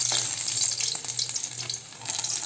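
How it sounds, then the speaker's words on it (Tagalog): Onions fry in spattering oil in a pan, a close, bright crackling sizzle with small pops and stirring scrapes that rises and falls a little, no speech. "Tumatalsik na ang mantika."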